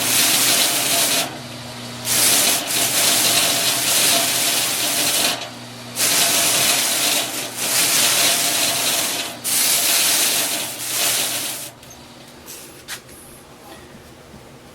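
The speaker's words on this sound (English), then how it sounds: "Again, using the sanding mop." A sanding mop smooths small wooden scroll saw pieces with a continuous whirring, hissing abrasion that swells and dips in bursts as each piece is pressed in, then quiets near the end.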